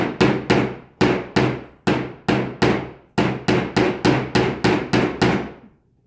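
Small brads hammered into a picture frame, a series of about fourteen sharp, ringing hammer strikes close by, delivered in quick clusters with short pauses between, each blow decaying briefly, with no talking.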